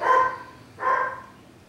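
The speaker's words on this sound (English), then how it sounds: "I hear the dogs." Two quick dog barks sound from a moderate distance, a short pause between them, with no talking over them.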